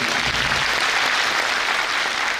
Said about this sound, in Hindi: जोरदार तालियां बजाते हैं इनके लिए।